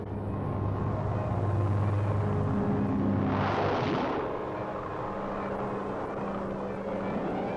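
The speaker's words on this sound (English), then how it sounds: "the planes take off for the combat zone to do from the air what cannot be done from the ground." World War II Mustang fighter planes take off, a steady loud engine roar that swells and sweeps past around the middle before settling back to a continuous drone.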